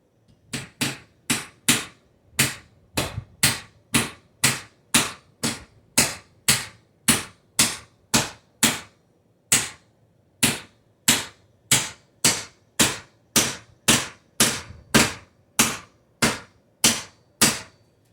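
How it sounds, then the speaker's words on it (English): Steady, sharp hammer blows striking nails into wood molding, dozens of evenly spaced knocks with a brief pause midway, close and loud. "Now what I'm doing is the back and forth hammering."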